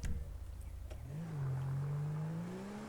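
In GTA 5, a Polonez car fitted with a 6.0 V10 engine revs up from idle into a steady, rising engine drone that holds loud and close, with no talking.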